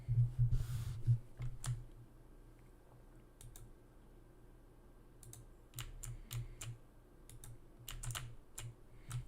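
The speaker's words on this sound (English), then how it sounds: "If my keyboard's loud, let me know." Rapid bursts of clicky computer keyboard typing, close and fairly quiet, coming in irregular clusters with short pauses between runs of keystrokes.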